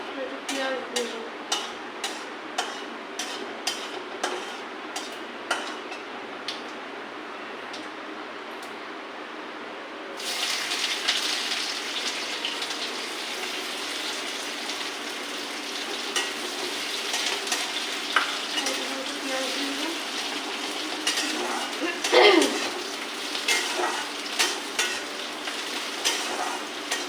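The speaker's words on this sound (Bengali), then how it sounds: "জিরেটা ভাজা ভাজা হয়ে এসছে, একটু পেঁয়াজ দিয়ে দেবো।" Cumin and dried red chili crackle in hot oil in a pan with light, rhythmic stirring clicks, then onion goes in and a louder, fuller sizzle takes over while the stirring continues.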